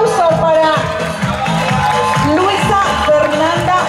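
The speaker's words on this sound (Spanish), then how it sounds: "Y está entonces el aplauso para" An audience at a rural pageant claps and cheers for a contestant, loud crowd noise with whoops and steady applause, with a voice talking over it.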